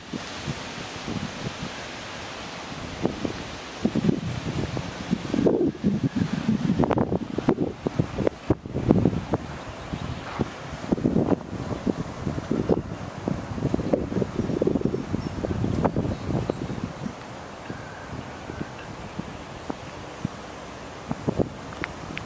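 Strong wind gusting across a hilltop at high school visitor bleachers, roaring and buffeting the microphone in uneven surges that rise and fall for over twenty seconds, loud and close with no voices.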